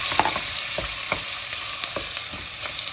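Pieces of meat fry steadily in butter in a pan for orman kebabı, a dense continuous sizzle and crackle up close, with a few faint stirring knocks and no voices.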